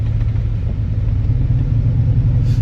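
A steady low engine rumble from a boosted Chevrolet Tahoe driving in snow, constant and droning with no voices.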